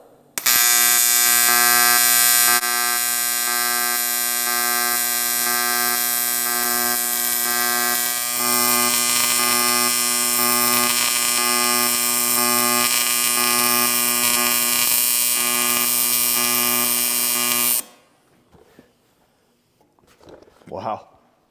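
A TIG arc from an Arccaptain welder buzzes as a steady, loud electrical hum with harmonic whine, running continuously for about seventeen seconds before cutting off abruptly, followed by faint quiet noises.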